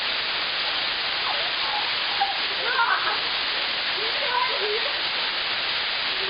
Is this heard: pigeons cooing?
no